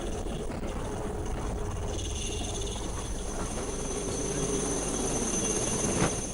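An IAF rescue helicopter hovers over flooded Kerala, its rotor and engine making a steady, continuous drone throughout. A faint high insect-like whine rides over it and a brief thump sounds near the end.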